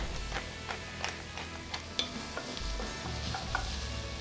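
Onion seasoned with salt and black pepper sautés in a pan, a steady close sizzle broken by repeated scrapes and stirring strokes, with no voices.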